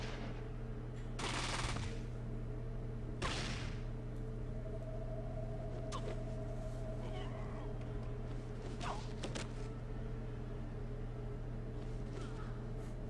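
Gunfire from the video game Fallout 2: two short, loud bursts of shots near the start, over a steady low game hum, then quieter clicks and thuds.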